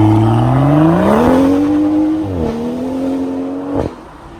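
A Mulgari Icon03 car accelerates hard, its engine note climbing through a gear, dipping at the shift, then rising again before easing off, loud and close.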